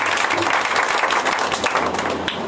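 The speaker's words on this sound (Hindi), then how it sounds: "पवित्र आत्मा के लिए जोरदार ताली मारकर" A congregation claps loudly and steadily during a Hindi Christian sermon, a thick wall of hand claps filling the whole short stretch with no pause.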